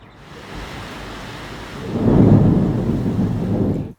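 Thunder rumbles over steady rain outdoors during a thunderstorm, the low roll swelling louder about halfway through and holding until the end.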